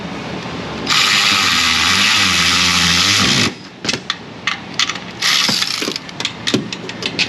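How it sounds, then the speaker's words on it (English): A loud electric ratchet tightens the upper strut bolts on a Toyota Tundra 5.7 4x2, whirring in one sustained close burst of about three seconds, then several short stuttering pulses with sharp clicks between them. "Let's take our electron ratchet, tighten up those bolts up top one more time."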